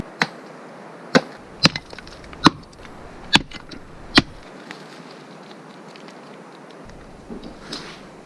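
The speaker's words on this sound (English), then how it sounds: "We'll chop some of this off anyway and fire a bit up" Chopping a piece of rubber inner tube for firelighter at a backcountry hunting camp in South Westland, New Zealand: about seven sharp, dry blade strikes at irregular intervals, close by, then quieter faint knocks near the end.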